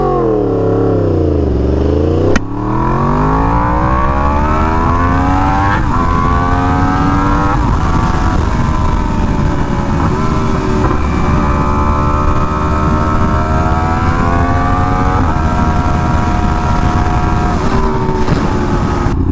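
A Yamaha R1M sport motorcycle ridden at high speed: a loud, close engine howl that drops and climbs through the revs, with a brief dip at a gear change, then a sustained high-pitched scream over heavy wind roar, with no talking.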